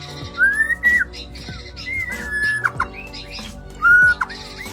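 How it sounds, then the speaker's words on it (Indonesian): A white-rumped shama (murai batu) sings close by in a series of bright rising whistles and sharp chirps, varied phrases broken by short pauses. "Kita perhatiin ya murai batunya ya, biarin dulu dia gacor-gacor ya."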